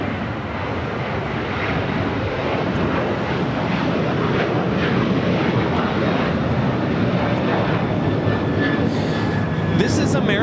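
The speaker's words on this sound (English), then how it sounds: "This is American Airlines 2668 taking off to Nashville, Tennessee on a 737-800" An American Airlines Boeing 737-800 taking off from LAX produces a loud, sustained jet roar that grows slightly and stays dense and continuous.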